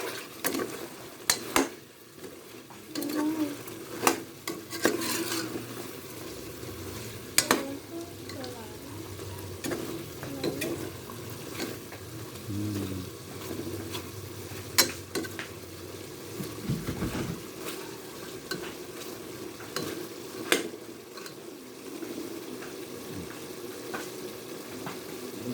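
Chicken curry ingredients get stirred in a pan over a low sizzle, with repeated sharp scrapes and clacks of a spoon against metal, while voices talk on and off nearby.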